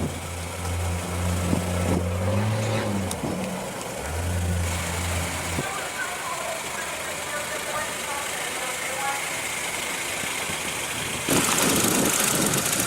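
The 1.8 liter inline four-cylinder engine of a 2016 Honda HR-V idles with a low, steady hum, while someone talks over it for much of the stretch.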